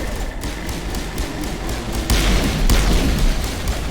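Pistol fire in Mass Effect, heavy, booming shots spaced well apart over a constant low rumble of combat, the last couple landing hardest, loud and close with no talking over them.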